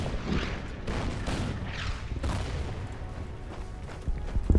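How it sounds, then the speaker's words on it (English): Bombs dropped by an aircraft in the Pacific war strategy game Order of Battle Pacific, heard as a run of dull booming blasts and crackling explosive bursts, fairly loud and continuous, with a heavier thump near the end. "So we'll drop a bomb."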